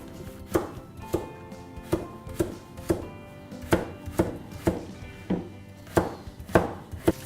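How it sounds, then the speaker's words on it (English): Knife chopping meat into small cubes on a board for pie filling, a steady series of about a dozen crisp, close thuds at an even rhythm, alone without talk. "so I will cut it in cubes. Just small cubes, like half centimeter, maybe smaller."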